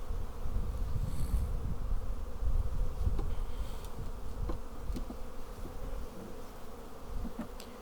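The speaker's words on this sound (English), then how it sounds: "These bees are coming along." Honey bees buzz in a dense, steady drone around an open hive during a spring inspection, loud and close throughout with no talk.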